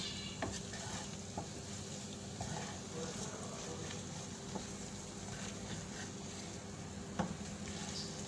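Scrambled eggs are mixed in a hot pan, a faint continuous sizzle with soft scraping strokes and a few light clicks of a utensil against the pan.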